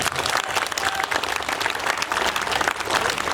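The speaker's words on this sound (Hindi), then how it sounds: "ताली मानिए आप" A large crowd at a workers' union rally in the Andaman Islands bursts into sustained, loud applause, a dense, continuous roar of clapping with no pause.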